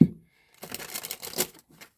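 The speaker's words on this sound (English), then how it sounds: "I almost forgot to shuffle." Tarot cards being shuffled by hand at close range, a soft papery riffling burst of about one second that fades into quiet, with a brief faint rustle after.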